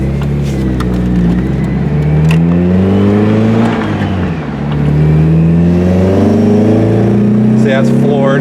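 Loud, close car engine at full throttle, its drone climbing in pitch, dipping briefly at a shift, then rising again, with a voice talking over it.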